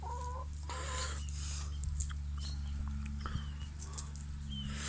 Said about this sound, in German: Da sind sie, guck, die Hähne.